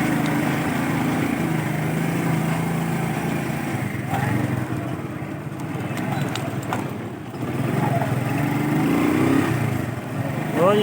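Motorcycle engine droning steadily while riding through a town bazaar in Azad Kashmir, with wind rush over the rumble and a voice talking at times.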